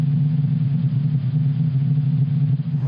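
A sonified recording of the sun's sound gives a continuous low rumbling roar with dense churning texture, steady and loud throughout, with no voices.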